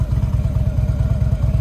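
A Harley motorcycle won at a salvage auction idles close by, its engine giving a loud, steady, lumpy low thumping rhythm throughout, alone with no talk.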